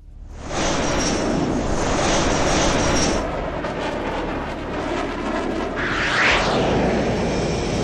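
Loud, steady jet engine roar in the HAWX 2 video game as the aircraft takes off, holding constant for several seconds before shifting into a broader rushing whoosh.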